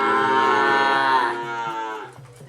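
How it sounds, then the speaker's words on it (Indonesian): A Sapudi Island racing bull lets out a single loud, drawn-out moo close by, holding strong for about two seconds before trailing off into quieter rustling. "milih sapi kerapan atau bibit-bibit sapi kerapan dari Pulau Sapudi"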